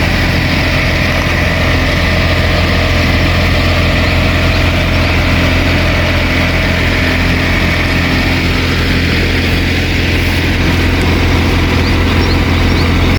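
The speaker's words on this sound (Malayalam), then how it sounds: "ഈ ഒരു വാഹനത്തിൽ നിന്ന് വരുന്ന ആ ഒരു എക്സോസ് നോട്ട്, ഈ ഒരു എൻജിൻ്റെ ആ ഒരു നോയ്സ് നിങ്ങൾക്ക് ഞാനൊന്ന് കേൾപ്പിച്ച് തരാം" A 2025 Porsche 911 Carrera sits at idle, its engine and exhaust giving a steady, smooth low rumble that stays even and close throughout, with no talk over it.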